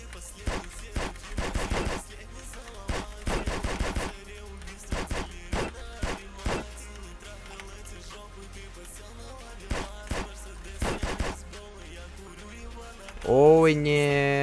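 Gunfire in GTA San Andreas Multiplayer: quick clusters of sharp shots in rapid bursts, pausing and resuming, then a different tonal sound at the end, with people talking beneath.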